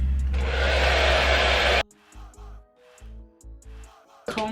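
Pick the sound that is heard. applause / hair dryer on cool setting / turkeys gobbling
hair dryer on cool setting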